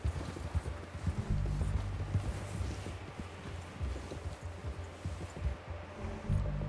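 Steady clip-clop of horse hooves in the game Red Dead Redemption 2, a rhythmic trot carried under low rumbling background sound and game ambience, continuing evenly for the whole stretch.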